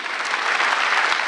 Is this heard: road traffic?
no